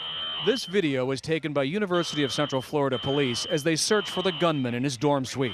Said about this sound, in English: The noise you hear is the fire alarm that police say James Sivakumaran pulled to lure students out of their rooms